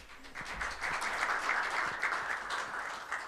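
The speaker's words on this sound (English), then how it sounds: "And a round of applause," An audience at a fintech panel conference applauds in a steady, sustained wash of clapping that holds for the whole short stretch at moderate loudness, with no talk over it.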